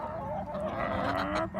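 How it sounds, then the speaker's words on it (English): Backyard farm chickens cluck close by in a short burst of overlapping clucks and calls, with no voices over them. "apparently the chickens want to say hello as well"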